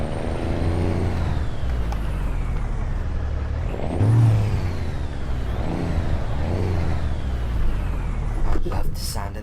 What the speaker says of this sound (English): This with the Cummins engine really sounds nice.